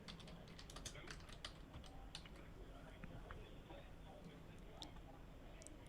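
Quiet, rapid clicking of keys on a computer keyboard comes in uneven bursts against faint background hiss, with a voice murmuring softly underneath.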